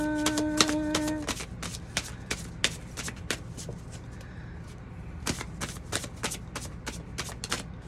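Playing cards are shuffled in a burst of rapid riffling, followed by a series of sharp irregular snaps and flicks as the deck is handled.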